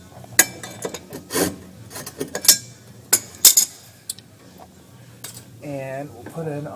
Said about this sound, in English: Tighten this up with the wrench.